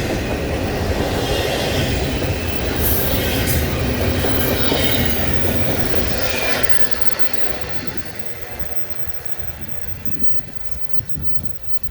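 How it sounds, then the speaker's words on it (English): A loud freight train hauling cargo containers rumbles past close by near the Kelso Depot in the Mojave Preserve, a dense steady roar with wheel squeals that eases off slightly toward the end. "the train is coming by. How apropos is that, huh? Thing's loud. I wonder where all these cargo containers are going."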